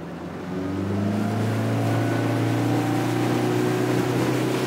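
Quintrex Sea Spirit 530 aluminium boat under way with a Yamaha F115 four-stroke outboard, a loud steady engine drone that climbs gradually in pitch as it builds speed, with wind and water noise and no talk.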